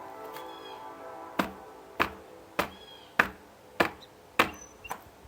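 A light-casing bike tire with a foam insert at 20 psi bounces against brick, giving about seven dull, muted knocks at a steady pace over a faint background hum.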